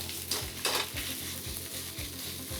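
Pork fried rice stir-fried in a pan over a tabletop gas stove, a steady close sizzle broken by regular scraping strokes of pressing and mixing, about one every half second, with no talking.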